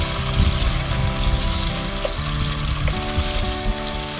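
Marinated boneless chicken for chow mein fries in a pan, giving a continuous dense sizzle with faint bubbling underneath, close and steady with no voices.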